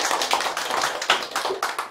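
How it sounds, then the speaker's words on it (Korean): An audience at a community meeting in Icheon applauds with dense, close clapping. The claps form a steady, lively patter for two seconds without pause. "박수라고 맞이하겠습니다."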